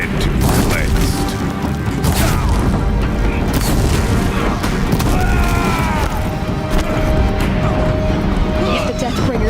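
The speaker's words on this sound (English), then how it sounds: "If the Deathbringers keep firing, this bridge will go." Deathbringer machines fire on a bridge in the Horizon Zero Dawn video game, with loud booms, crashes and clanking mechanical noise in dense, continuous battle, and voices heard among the din.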